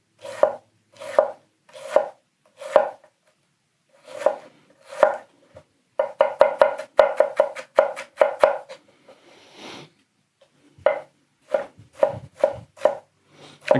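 A Hatsukokoro Kurokaze kitchen knife push-cutting larger ingredients on a board: crisp, close chops, first evenly spaced, then a quick burst of rapid cuts, then slower strokes again.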